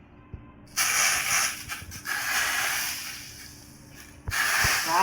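Hot oil sizzles loudly in a pan with red chilies for a Marathi-style red chili dish, a steady bright hiss that swells and eases, with a couple of soft clinks and a fresh burst of sizzling near the end.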